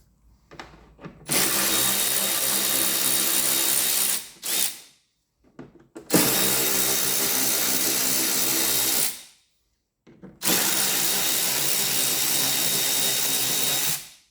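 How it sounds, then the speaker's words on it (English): An electric ratchet undoes bolts on a Mark 5 Ford Mondeo during wishbone replacement, whirring loudly in three sustained bursts of about three seconds each, separated by short pauses. "So I'm just going to take our electric ratchet."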